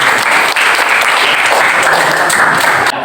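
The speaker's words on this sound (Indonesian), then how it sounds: "Baik, kita berikan aplaus sekali lagi" A classroom of students applauds in a dense, steady burst of clapping, loud and close, lasting a few seconds before cutting off.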